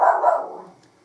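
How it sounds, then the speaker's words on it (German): A dog gives one loud, close bark that trails off into a fading tail; a second dog barking somewhere below sets it off. "die Hundin unten bellt, deswegen bellt der Sparky auch"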